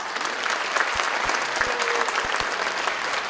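A concert audience at a Polish folk ensemble show claps for visiting guests, the Krakowiacy Baltimore group, steady applause with some individual claps standing out nearby and a few low thumps underneath.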